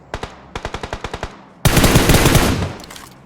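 Video game automatic gunfire: two short bursts of evenly spaced shots, then a dense, loud sustained volley of rapid fire lasting over a second before fading.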